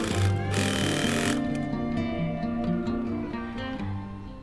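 Sewing machine running a steady straight top stitch on a fabric and faux leather coin pouch, a continuous buzzing motor hum with fast rhythmic needle chatter, fairly quiet and close.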